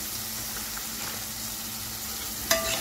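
Half a cube of butter, cut to a quarter, sizzles steadily in a frying pan while being stirred, a soft continuous crackle with a brief sharper clink near the end.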